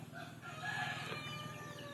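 A rooster crows in a rural Quezon Province setting, a drawn-out call heard at moderate distance over a steady background hum, with no talking.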